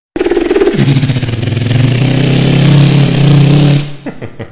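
A voice imitates a Honda VTEC car engine revving, a loud buzzy mouth-made engine note that climbs steadily for nearly four seconds before cutting off into a few sputters.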